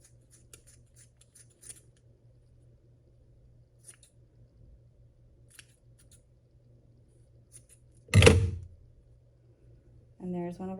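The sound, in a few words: scissors cutting yarn for a pom-pom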